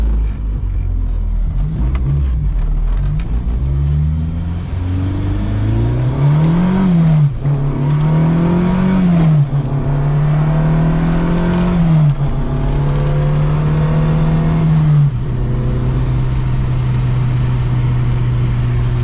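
A Honda Civic EK sedan's engine runs loudly and steadily, its pitch rising and falling with a few revs before settling into an even idle.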